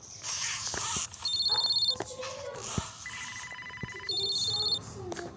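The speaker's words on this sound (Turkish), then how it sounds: "Abla telefon çalıyor." Telephone ringing indoors in a home, an electronic ringtone sounding in two bursts at moderate volume, with children's voices and household noise around it.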